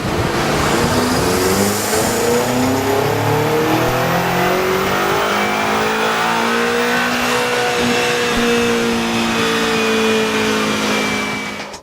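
A BMW M5 Competition twin-turbo V8 roars on a rolling road dyno with all wheels spinning, its loud engine note rising and falling through sustained revving close by.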